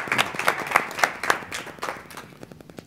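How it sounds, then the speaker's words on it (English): A small group at a city school board meeting claps in a brief, fairly close round of applause, individual claps rhythmic and distinct, tapering off after a few seconds. "So I think that deserves a round of applause."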